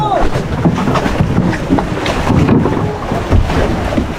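Choppy water splashes and slaps around a boat in strong waves under gusty wind noise, with indistinct voices mixed into the constant rough din.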